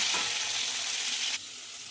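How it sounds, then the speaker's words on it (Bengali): Ground paste of rice, poppy seed, ginger, green chilli and coriander seed frying in oil, a steady bright sizzle that drops abruptly to a quieter hiss near the end. "এটা এটাকে ভালো করে ভাজবো"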